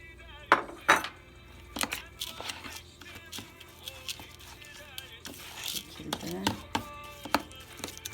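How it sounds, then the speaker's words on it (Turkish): Oats being stirred into a mixture for low-calorie, bread-free oat toast in a home kitchen, with a spoon scraping and clinking against a bowl in irregular, close strokes, some louder knocks, and a faint background hum. "Bunları da güzelce karıştırıp yulafımızı ekliyoruz"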